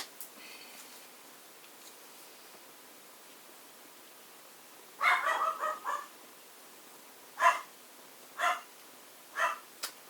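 A small dog barks several times in sharp, high yaps, first in a quick cluster and then singly, over faint background hiss.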